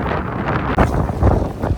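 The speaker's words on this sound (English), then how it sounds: "Crazy windy out today" Strong gusty wind battering the microphone at a chicken coop build site, heavy rumbling roar surging and dipping briefly before blowing hard again.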